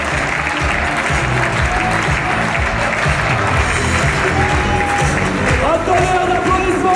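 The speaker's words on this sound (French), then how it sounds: "Un tonnerre d'applaudissements pour les volontaires!" A large crowd at a Manif Pour Tous conference applauds its volunteers with sustained loud clapping and scattered cheers, and voices are heard under the noise.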